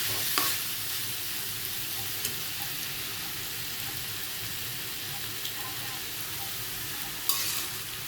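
Fried pumpkin sizzling in oil in a pan as mild red chilies go in, a steady moderate crackling hiss with a few sharp clinks of a utensil.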